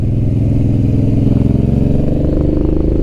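A Honda NT650 Hawk motorcycle riding along, its engine droning loudly and steadily from close by with a slight rise in revs, no talking over it.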